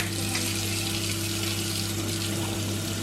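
Water pours steadily from a newly fitted kitchen tap, a dense, even hiss and rush that holds unbroken at close range, with a low hum underneath.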